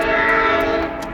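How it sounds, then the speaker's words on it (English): Train passing nearby in Denver, a loud sustained rumble with a steady tonal horn-like hum, continuous for the whole moment and easing slightly toward the end. "Train make lots of noise."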